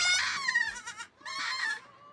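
Black goats bleating on a goat farm in Hwasun, South Korea: two clear, close, wavering bleats separated by a brief pause, loud and alone without talk.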